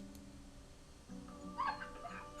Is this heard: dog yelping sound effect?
yes